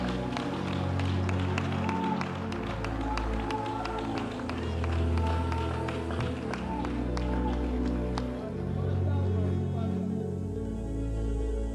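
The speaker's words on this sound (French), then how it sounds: "Acclame, on va." A church congregation claps steadily and evenly throughout, fairly distant and unbroken, under a sustained low musical tone and occasional voices.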